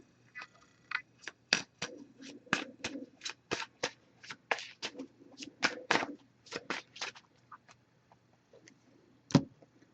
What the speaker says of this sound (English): I'm going to give it a few more shuffles.